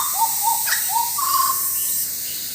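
A Papuan butcherbird calls in Sulawesi forest with a short series of clear whistled notes, the last one longer and rising, heard close and distinct over a steady insect hiss.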